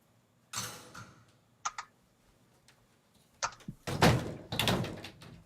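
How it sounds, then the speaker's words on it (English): Doors being shut indoors: a few close thuds and clicks of the latch, one after another, with quieter handling noises between them. "Give me a second to close my doors so my dog isn't interrupting us anymore here."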